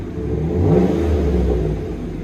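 A 6.2L V8 Chevy Silverado revs up through its exhaust, swelling into a throaty roar before settling back to a rumbling idle.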